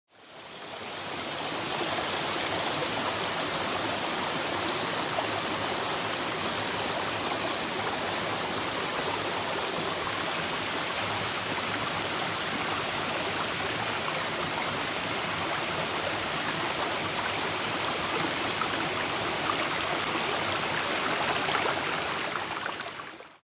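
A waterfall at the head of Princess Louisa Inlet rushes in a steady, dense, broadband roar that stays even and unbroken throughout, close and fairly loud, with no voices.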